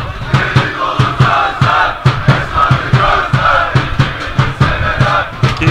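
Football supporters of both teams chant in a stadium during a Çeşme Belediyespor versus Ödemişspor play-off match. The crowd roars loudly and steadily, with rhythmic rising bursts.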